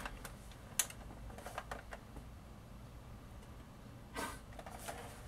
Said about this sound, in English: I've mentioned my typewriter a number of times, my plastic battery-operated typewriter.